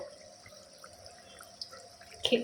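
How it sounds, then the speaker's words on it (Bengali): Sugar water simmering in a cooking pot, faint soft bubbling and sparse small pops that end in a brief louder burst of bubbles. "এই জলটা, চিনির জলটা ফুটতেছে"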